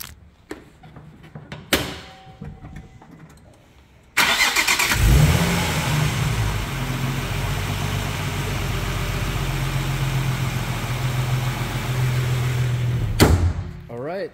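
A 2007 Nissan 350Z with a six-speed manual starts with a short crank and catches into a steady, close idle that hums on evenly for several seconds before stopping abruptly.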